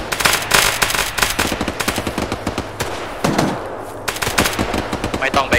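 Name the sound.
gunfire in the video game ArmA 3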